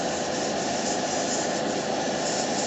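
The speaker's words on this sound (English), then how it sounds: "How's it when I have the airbrush going?" An airbrush and an exhaust fan running together during miniature painting, a constant close hiss and whoosh with no pauses.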